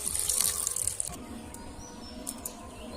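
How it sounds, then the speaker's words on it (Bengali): Boiled chowmein noodles are rinsed under cold running water in a village kitchen; a brief rush of tap water fades after a second into quieter trickles and drips. "চাউমিনটা আমি ঠান্ডা জল দিয়ে ধুয়ে নেব।"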